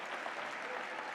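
Audience applause at an awards ceremony, a steady wash of many hands clapping throughout the short stretch, moderately faint and even, with no talk over it.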